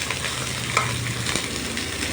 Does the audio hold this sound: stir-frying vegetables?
yes